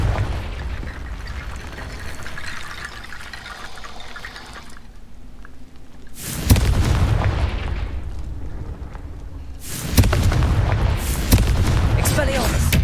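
In Hogwarts Legacy, Confringo spell blasts burst out as two loud, booming explosions with a rushing, watery roar, set against a lower ambient rumble.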